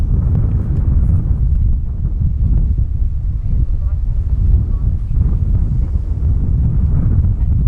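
Strong coastal wind at Coffs Harbour buffets the microphone with a continuous, loud, low rumbling roar that never lets up across the whole stretch.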